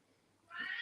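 A cat lets out a single short meow close by, rising in after a quiet start and holding to the end.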